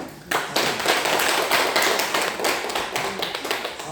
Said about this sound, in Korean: 모두 큰 박수로